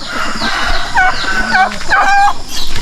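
Chickens on a farm cluck and squawk in short bursts close up, with a rooster-like call mixed in and some rustling nearby.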